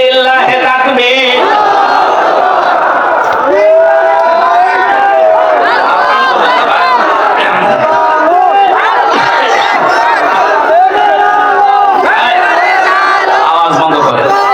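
A large crowd at an outdoor Islamic waz mahfil, a religious preaching gathering, roars the takbir chant in unison. Loud, long, rising and falling bellows come in repeated waves over about fifteen seconds.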